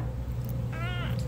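A single short cat meow, rising and then falling, rings out close by over a constant low household hum.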